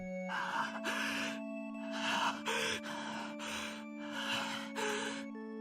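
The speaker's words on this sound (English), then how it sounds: "I recognize that cowardly panting anywhere." Heavy, rapid panting from a character in the Fate/Stay Night visual novel: about seven loud breathy gasps in an uneven rhythm, close and alone over a steady low background tone.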